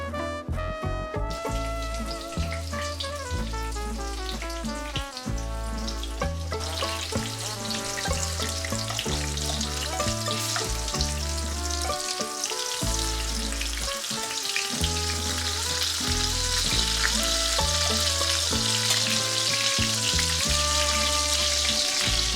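Breaded frog legs fry in hot oil, giving a steady crackling sizzle that thickens in the second half, heard under continuous background music with no talking.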